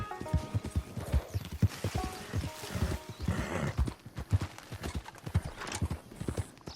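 Horse hooves clip-clopping in a steady rhythm, punctuated by a neigh, ridden in the video game Red Dead Redemption 2; close and clear with no talking.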